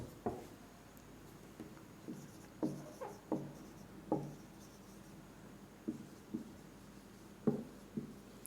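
Chalk or marker strokes on a board as a maths exercise is worked out, a series of short, faint taps and scrapes spaced irregularly in a quiet room.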